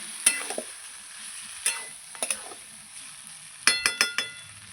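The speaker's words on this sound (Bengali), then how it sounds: "এভাবে ঢেকে ঢেকেই আমি মাংসটাকে কষিয়ে নেব" Mutton is slow-sautéed in a covered pan with a metal spoon, producing sharp clinks and scraping stirs in short bursts, some clustered in quick runs, over a light sizzle.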